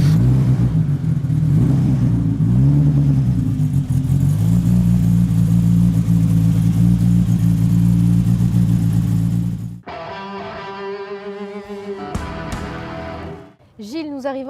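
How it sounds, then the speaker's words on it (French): A Maserati Ghibli's engine roars loudly and steadily, revving at high volume for several seconds before cutting off, after which a voice speaks close by. "maintenant on va vous la faire démarrer."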